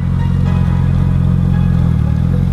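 A four-cylinder motorcycle engine runs loud and close with a steady mid-pitched drone and a slight rise in revs, no voices over it, while riding a rough road to a scenic lookout.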